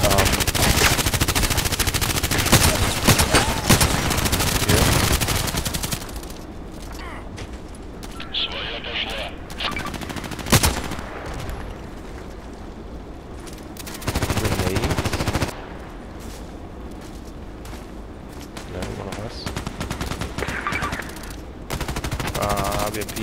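Gunfire from a KelTec RFB carbine in the video game Contract Wars on the Site map: long stretches of rapid, continuous automatic shooting broken by short pauses, loud and close, with talk mixed in between the bursts.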